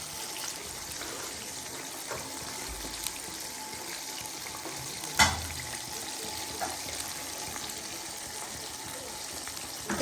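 KFC-style chicken deep frying in oil on its second side, a steady, soft hiss and bubbling that runs continuously with a brief louder clatter near the middle, no talking.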